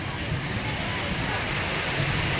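Steady heavy rain pours down over a municipal market in Ban Ton, Thailand, a dense continuous hiss with no breaks, filling the whole stretch.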